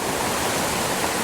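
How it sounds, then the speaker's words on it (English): A mountain creek rushes along in a steady, broadband wash of flowing water, close and loud, with no voices over it. "we have another beautiful creek"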